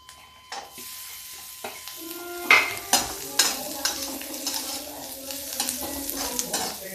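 Chopped onions sizzle in a hot pan with lightly browned garlic and cumin for bhindi do pyaza, with a soft steady frying hiss broken by sharp clinks and scrapes of a spoon stirring against the metal.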